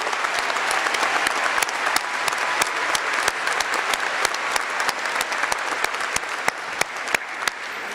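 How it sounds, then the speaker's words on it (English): A large audience at a 2018 high school graduation ceremony applauds for the students, producing a continuous dense roar of clapping with a few sharper individual claps standing out, sustained and loud throughout. "Let's have one more round of applause for the extraordinary students."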